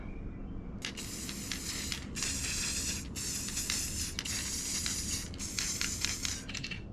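An aerosol can sprays a camo base coat onto locks in about five sharp, hissing bursts, each lasting around a second, with short gaps between them and no talking.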